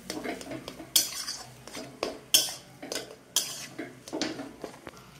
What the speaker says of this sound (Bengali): এভাবে আলুটাকে ভাজতে থাকবো যতক্ষণ না কোনা দিকে ছেড়ে দিচ্ছে।